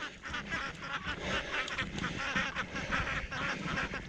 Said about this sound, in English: These are Indian runner ducks.